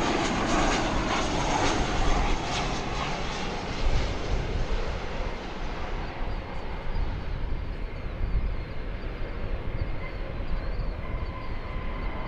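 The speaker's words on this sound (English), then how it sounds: "And we've got coming in American Flight 2335." American Airlines flight 2335 from Albuquerque comes in to land at DFW Airport, a loud, broad jet roar that gradually fades as the airliner passes, with no talking.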